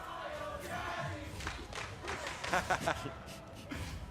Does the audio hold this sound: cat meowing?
no